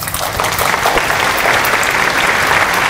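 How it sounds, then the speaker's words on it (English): Students at a school morning assembly break into loud, sustained applause, a dense wash of clapping from a large group that holds steady for a few seconds with no voices on top. "Very good, student. Clap yourself."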